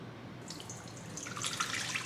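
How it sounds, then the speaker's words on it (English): Warm water poured into a bowl for pita bread dough, a soft, close, steady trickling stream that swells louder toward the end, with no voices. "I am going to pour a cup of warm water"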